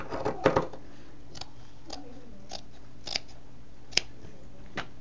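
Scissors snip through fabric scraps in a few quick, crisp cuts near the start, followed by sparse, faint clicks and snips against a quiet room.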